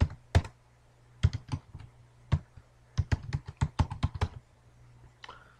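Someone types a command on a computer keyboard at an Ubuntu server login, in uneven bursts of sharp, close key clicks separated by short pauses.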